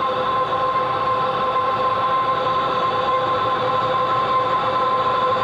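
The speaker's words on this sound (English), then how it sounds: "That noise that you're hearing in the background is the air blowing through this ribbon burner" Air rushing through a ribbon burner used for bending neon glass tubing, a loud, steady roaring hiss with a faint tonal hum, continuous and unchanging from start to end, with no talking.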